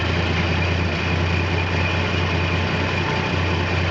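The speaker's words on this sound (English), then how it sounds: "You can hear the belt noise." A 1969 Plymouth Valiant's 225 Slant 6 engine idles steadily and smoothly at close range, a low constant drone with a faint belt whine running through it, and no voices.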